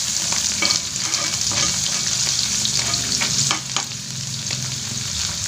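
Shallots and garlic stir-fried in a pan for a sautéed genjer dish give a steady, close sizzle broken by repeated scraping stir strokes throughout.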